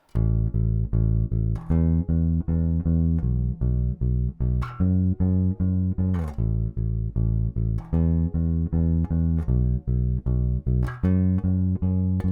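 An electric bass, a Fender American Professional II Precision Bass, plays the chorus line of a song: a repeating line of plucked, sustained low notes in a steady rhythm, clear and alone.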